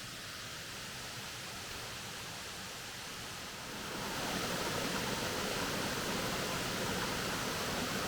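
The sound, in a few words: Dutter's Run Falls waterfall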